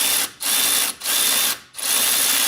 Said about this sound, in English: And then we're gonna tighten it up with the ratchet.